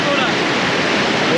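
Cold glacier-fed mountain stream rushing loudly and continuously, a dense broadband roar of flowing water close to the microphone, with no clear talk over it.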